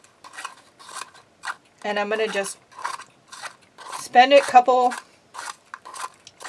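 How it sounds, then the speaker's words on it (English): Small, crisp snipping and clicking sounds of scissors chopping resin pieces in a cup repeat close by between spoken words, with a person talking intermittently over them. "I'm going to just take a little pair of scissors"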